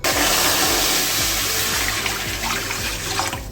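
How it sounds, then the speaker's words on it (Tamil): Water poured into a pan on the stove while cooking a Tamil tomato kootu, a continuous, close splashing gush with a steady level, with no talk. "அடுப்பில் வச்சுட்டு இதில் தண்ணி ஊற்றிக்கலாம்."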